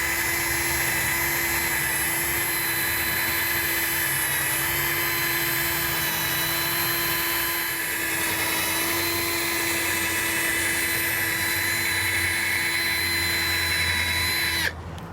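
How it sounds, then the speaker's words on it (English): Steady, loud mechanical whine of a rotary sander running continuously on a pitted plastic car headlight, with a constant hum and hiss, cutting off abruptly at the end. "you're actually sanding through all of these pit marks on here."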